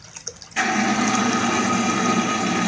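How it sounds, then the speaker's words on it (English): A Min-O Saver aerator pumping air into bait tank water switches on after a few soft clicks, then runs as a loud, steady bubbling hiss and whir that continues unbroken to the end. "I've got a Min-O Saver. Basically, it injects oxygen into the water. It's kind of loud."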